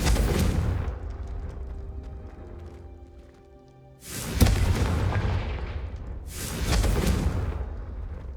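In Hogwarts Legacy, a Confringo fire spell goes off in three loud, booming blasts, each with a long rumbling decay and roughly two to three seconds between them.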